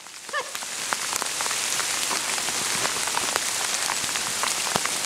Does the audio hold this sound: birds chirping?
no